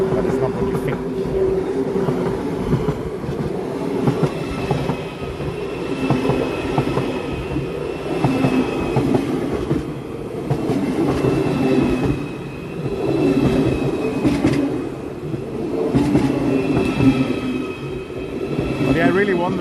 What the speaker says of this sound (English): is that German train, Deutsche Bahn?